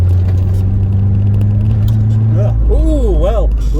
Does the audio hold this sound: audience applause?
no